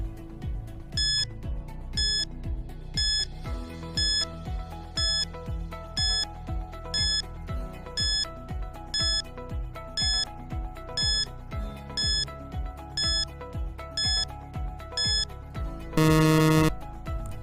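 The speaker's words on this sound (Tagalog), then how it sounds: "Timer starts now." A timer ticks in a steady repeating beat with soft music-like tones for about sixteen seconds, then a loud electronic alarm blares briefly near the end, with no talking.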